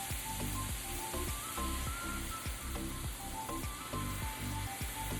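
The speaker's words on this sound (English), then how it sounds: "I'm gonna go ahead and put in the crushed tomatoes" Crushed tomatoes from a whole can going into a pan of meat sauce, a steady close sizzle with wet, pattering splashes running throughout, no talk over it.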